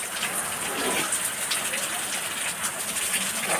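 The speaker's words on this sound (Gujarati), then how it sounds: "જોરદાર વરસાદ આવી ગયો ભાઈ" Heavy rain pours down in a dense, steady roar of splashing and rushing water, loud and close, with no pause and no talking.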